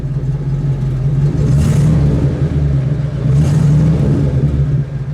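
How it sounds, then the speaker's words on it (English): A 1956 Chrysler New Yorker St Regis engine idles with a low, steady rumble and rises twice in brief revs, close by and fairly loud. "Go ahead, give it a rev."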